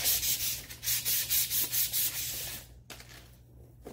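Sandpaper rubs back and forth by hand in a steady rhythm of about a dozen loud, close strokes, then stops into near quiet, smoothing a part during a truck shock install.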